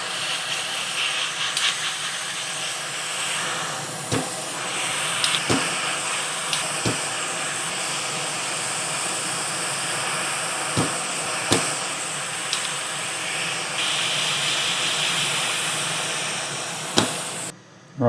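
A heat gun fitted with a nozzle blows a constant close hiss while solder is cleared from the USB port holes on a PlayStation 5 board, broken by several sharp clicks from the solder sucker.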